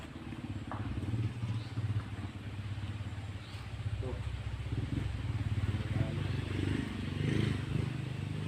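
A motorcycle engine drones nearby on a mountaintop cemetery, its pitch rising and falling as it moves, while people talk over it.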